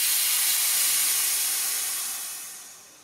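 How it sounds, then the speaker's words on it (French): A pressurised brake bleeder on an Audi A3 is released to zero during a brake fluid change, letting out a loud, close, steady hiss that slowly fades over three seconds. "je vais appuyer sur le bouton ici, on va casser la pression à 0."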